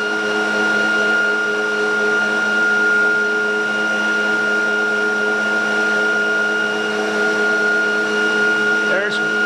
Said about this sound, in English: now I'm going to engage the ReGenX coils.